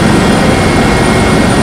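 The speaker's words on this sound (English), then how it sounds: "So we are in the helicopter" Helicopter heard from inside the cabin while flying over the Ghanaian jungle near Achiase, a steady loud broadband engine and rotor roar with no breaks.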